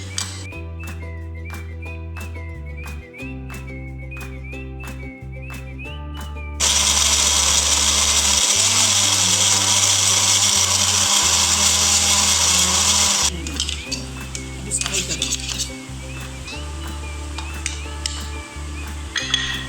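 Electric grinder running on chicken mince with green chillies, starting with choppy pulsing bursts, then a loud sustained whirring roar for several seconds, easing back into rough intermittent grinding.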